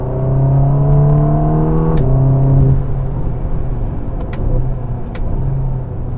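Engine of a Ferrari Roma, a front-engined car, heard from inside while driving: a steady, smooth mid-range drone that dips and settles as revs change, loud and continuous with no talking.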